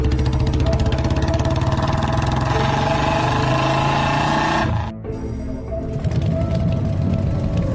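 A cartoon motorcycle rides off, its engine buzzing loudly and steadily before a brief drop and dip, then the motor picks back up, with no talking heard.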